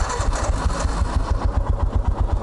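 A Royal Enfield Himalayan motorcycle engine runs up close with a steady, rapid low thumping beat, a loud, even idle with no voices.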